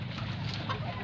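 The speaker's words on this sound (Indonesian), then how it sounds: "di sini ada ayam KUB, ini ada ayam KUB" KUB native chickens in a farm coop clucking softly and steadily, a close, continuous murmur of several birds with no talk.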